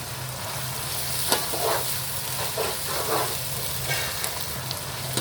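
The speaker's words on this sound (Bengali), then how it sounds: "আমি সামান্য আরেকটু ভেজে নেব আদা রসুনটা" Ginger and garlic frying in a pan, a steady soft sizzle and crackle running throughout with a few brighter pops, fairly close and alone without talk.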